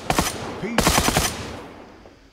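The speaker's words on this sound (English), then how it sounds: "I'm kind of running towards gunfire" Rapid bursts of gunfire in the video game Badlanders crack in two loud volleys, then the sound trails off into a fading, echoing tail.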